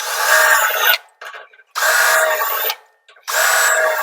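A power drill with a small 1/4 or 3/16 inch bit whines loudly in three sustained bursts of about a second each, drilling out a spot weld, with brief scraping and clicking between them, close up.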